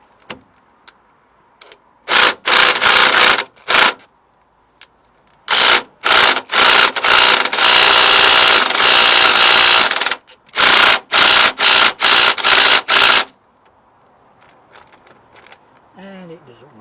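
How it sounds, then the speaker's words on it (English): A handheld impact driver with a socket hammers at a tie rod end in a garage, firing in several loud bursts of rapid rattling, one held for a few seconds, with quiet gaps and faint talk between them. "So we're going to use the impact driver again, get the correct socket on it."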